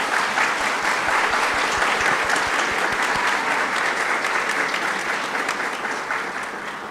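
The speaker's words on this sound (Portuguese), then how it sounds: "Os aplausos são um reconhecimento ao seu trabalho por mais de 50 anos na nossa casa" Sustained applause from an audience honoring a teacher for more than 50 years of work, dense steady clapping throughout that tapers slightly toward the end.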